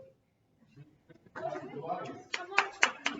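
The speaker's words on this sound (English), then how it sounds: "Give her a round of applause." Scattered hand clapping from a small group at a Toastmasters meeting, starting faint and thin, then building into a brief, uneven round of applause with a couple of sharper claps, alongside some speech.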